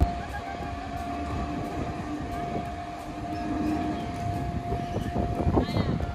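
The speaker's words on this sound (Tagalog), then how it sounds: "Yun lang yung aabangan mo, yung train dumaan." A train rolls past with a loud, steady rumble and screech through the whole stretch, swelling slightly toward the end. A faint tonal whine sits over the noise.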